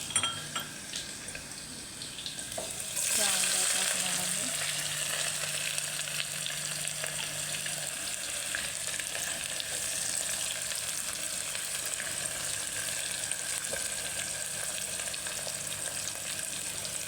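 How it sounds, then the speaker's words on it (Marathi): Cumin, mustard seeds and garlic hit hot oil and break into a loud, continuous close sizzle that holds steady to the end, with a faint hum underneath and no talking. "तेल आपलं गरम झालेलं आहे त्यात जिरे मोहरी लसूण आहे"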